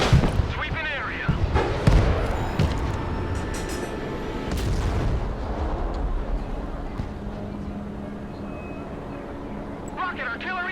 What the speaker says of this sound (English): Rocket artillery engaged.